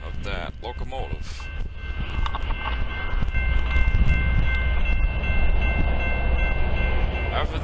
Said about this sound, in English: After this coal drag went by